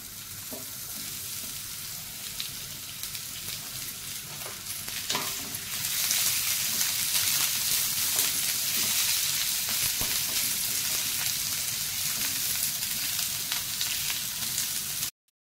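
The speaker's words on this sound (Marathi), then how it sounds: "तेल तापल्यावरती उभा चिरलेला कांदा आहे तो परतून घेऊया." Sliced onion fries in a little hot oil for a clams masala, a steady close sizzle that swells louder about a third of the way in and carries on evenly with faint stirring scrapes, no voices.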